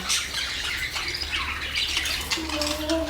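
A pair of pet birds squawks continuously at close range, harsh, loud calls overlapping with a brief whistling note near the end.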